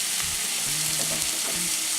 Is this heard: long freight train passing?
no